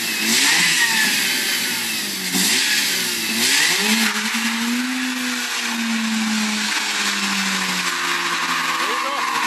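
A Mazda RX-8 rotary engine screams at high revs during a burnout, its pitch climbing and wavering as the throttle is held, loud and close, with excited voices shouting over it.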